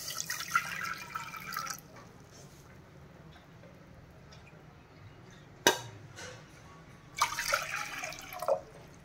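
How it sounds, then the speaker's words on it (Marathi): Water poured into a cooking pot for boiling rice, heard as two bursts of splashing pouring, one at the start and one near the end, with a sharp clank between and quieter kitchen background in the gaps. "आता हे 2 वाटी पाणी मी टाकलेलं आहे"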